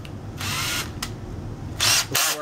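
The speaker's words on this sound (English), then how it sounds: "So I'm going to go ahead and drill partially through." A power drill whirs in short bursts, revving up and stopping several times, close by with no talking.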